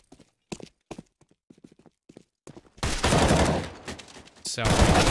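Counter-Strike match on the map Cobblestone: a scattering of sharp, distant shots and footsteps over near silence, then a sudden loud, sustained burst of close gunfire and clattering action.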